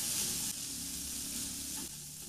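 Diced carrots and potatoes with corn kernels stirred in a frying pan, a steady soft sizzle and hiss with a couple of small shifts as the food is moved, quiet and without talking.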